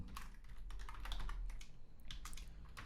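Quick, light clicks from a computer keyboard keep up a steady, irregular patter while someone types code, quiet and close.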